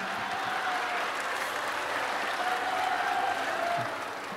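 A crowd applauds steadily at an Indonesian religious lecture, a broad, even wash of clapping holding for about four seconds.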